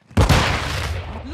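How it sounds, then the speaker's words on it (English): A flash grenade goes off in the video game Modern Warfare 2: one sudden loud burst followed by a sustained ringing, roaring wash that stays loud to the end. "Get to cover. Flash grenade!"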